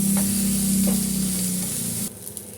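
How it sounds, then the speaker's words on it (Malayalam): Turmeric and coriander powder sauté in a hot pan for a brinjal curry, giving a loud, steady sizzle with stirring that cuts off abruptly near the end. "അര ടീസ്പൂൺ മഞ്ഞൾപ്പൊടി അര ടീസ്പൂൺ മല്ലിപ്പൊടി പൊടികളുടെയൊക്കെ പച്ചമണം മാറുന്ന വരെ വയറ്റി കൊടുക്കാം"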